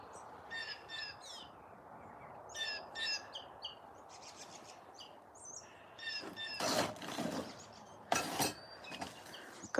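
Birds chirp and call in a garden, with clusters of bright tweets and some harsher caw-like calls coming close and fairly loud over a faint rustling background, with no voices.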